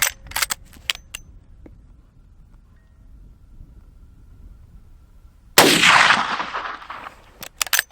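A single loud gunshot from a Rossi R92 rifle in .357 cracks sharply and rolls off outdoors, preceded by faint clicks and wind noise.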